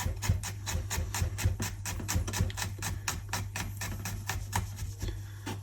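A knife finely minces a garlic clove on a cutting board, a rapid, steady run of close, crisp chopping taps with no talk over it.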